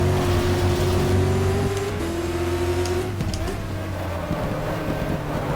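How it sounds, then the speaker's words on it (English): Race cars in the GTR2 racing game, an LMP2 prototype among them at Spa-Francorchamps, drone loudly throughout with steady engine tones that shift pitch as they pass close by, with no talk over them. "LMP2 passing much quicker"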